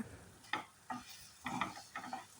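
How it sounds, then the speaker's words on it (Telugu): Boiled egg pieces stirred through masala in a pan, giving a few quiet, irregular scraping strokes over a faint frying sizzle, close but low in level. "ఈ మసాలా అంతట్లో ఈ ఎగ్ పీసెస్ బాగా కలిసిపోయే వరకు మనం కలుపుతూనే ఉండాలి"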